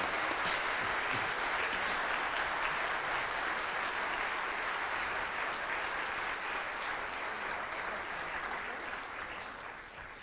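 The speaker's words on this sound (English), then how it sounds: "Let's have another round of applause for Mr. Cromer and the cadet band." An audience at a school band concert gives sustained applause for the cadet band and its director, a continuous crowd of clapping hands at even level that slowly fades toward the end.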